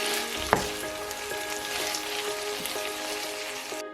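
Pork belly and shrimp with chopped green onions sizzle steadily in a hot stir-fry pan, a close, even crackle with one sharp knock of a utensil early on.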